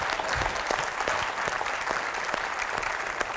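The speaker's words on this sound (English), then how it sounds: "I think he needs an extra round of applause for having spoken so quickly and not mispronouncing one word." An audience at a science talk in a theater in Oakland, California claps steadily in a dense, even round of applause throughout.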